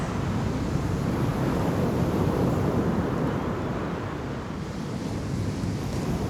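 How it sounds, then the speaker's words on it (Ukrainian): Sea waves on a beach with wind, a broad continuous roar of surf and gusting air, steady and fairly loud with no voices. "слухаєте хвилі, відчуваєте вітер"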